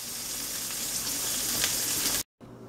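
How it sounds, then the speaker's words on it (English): Sausages browning in a hot frying pan give a steady, close, hissing sizzle that holds evenly before cutting off abruptly, then returns more quietly after a brief silence. "Now I'm just going to brown them up and cook me some sausages"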